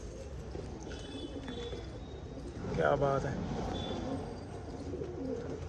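Low, rolling pigeon coos run steadily near a caught marked female pigeon, close and continuous, while someone speaks briefly midway through.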